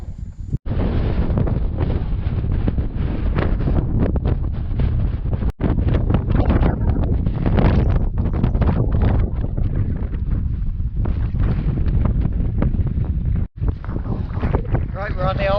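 Strong wind buffets the microphone on open Peak District moorland at Brown Knoll, a loud, continuous roar with gusty surges throughout and no clear speech over it.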